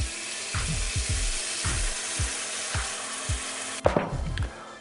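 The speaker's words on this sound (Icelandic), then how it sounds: "Svo hellum við bara vatni yfir þetta, þannig að þetta svona nánast farið svona vel yfir skankana" Water pours from a pot or jug over lamb shanks in a cooking pot, a steady splashing with repeated low knocks and a louder clatter near the end, no talk.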